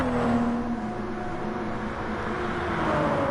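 A Toyota GR Supra in a racing video game holds a steady, droning exhaust note at sustained revs, loud and close, with a slight pitch shift near the end.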